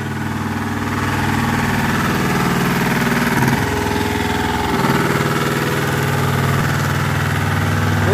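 A fire pump engine runs during a fire drill, giving a loud, steady, mid-to-low droning rumble that shifts slightly in pitch and continues unbroken throughout, with no voices.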